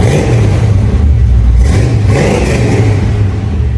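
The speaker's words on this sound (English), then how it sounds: "MagnaFlow exhaust that sounds like this" A loud, deep V8 truck exhaust with a MagnaFlow system burbling at idle, then revving up and dropping back, close to the listener with a rough rumbling tone.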